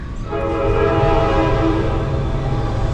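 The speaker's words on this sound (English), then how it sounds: "Once the train passes, that is." A train passes close by in the small town of Matewan, West Virginia, its loud horn sounding a long sustained chord over the rumble and clatter of rail cars, filling the whole moment.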